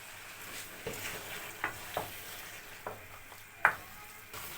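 Beaten yogurt going into a sizzling mutton butt karahi, a soft steady sizzle broken by scattered stirring clicks and light scrapes, fairly faint and close.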